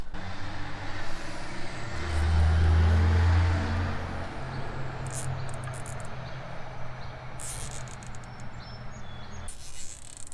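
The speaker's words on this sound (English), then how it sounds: "large truck noises in the background" A large truck rumbles steadily in the background with a low engine drone, a brief hiss of air brakes and faint insects chirping.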